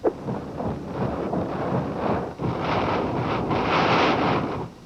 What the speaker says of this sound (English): 100-mile-an-hour winds.